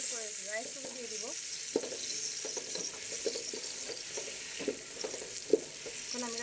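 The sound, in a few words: frying carrots, capsicum and vegetables for fried rice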